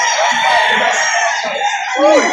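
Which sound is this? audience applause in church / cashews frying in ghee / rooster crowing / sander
rooster crowing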